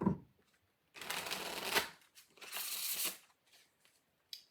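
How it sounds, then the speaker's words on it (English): Tarot cards are riffled and shuffled in two quick bursts, crisp and close, with short quiet gaps and a light tap at the end. "One more shuffle."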